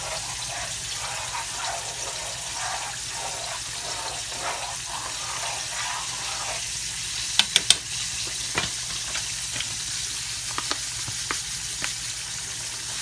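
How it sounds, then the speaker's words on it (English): Grits simmering with butter in a pot, stirred steadily while fish cooks nearby, giving a continuous soft sizzle and bubbling texture with a few sharp scraping clicks of the utensil partway through. "So as my grits and my fish and stuff are cooking, so basically you just want to keep stirring it."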